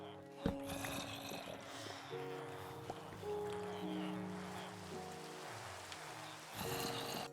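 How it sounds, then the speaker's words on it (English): Rain falls in Minecraft as a faint, steady patter and hiss, heard under a soft musical tone and background game sounds, with a sharp tap near the start. "Good, some rain."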